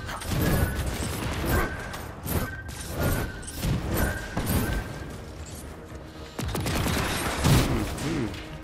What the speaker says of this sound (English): I heard a lot of gunfire.